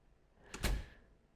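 A door shutting in the visual novel game Chaos;Child: a single short thud with a brief rattle, close and fairly faint, alone without any voices.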